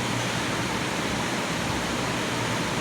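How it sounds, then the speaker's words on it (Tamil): Water poured steadily into a cooking pot for mutton mandi biryani, a continuous rushing splash that holds at an even level throughout, with no talk over it. "இப்போ பிரியாணிக்கு தேவையான அளவு தண்ணியை நம்ம இதில் ஊற்றிடுறோம்."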